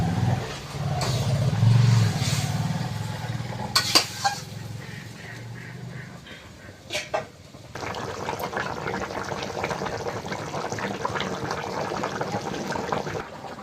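Curry poured into hot oil in a cooking pot for a rustic village-style dish with taro and fish, giving a loud sizzling, watery splash that rises suddenly, then settles into a steady crackling fry close by.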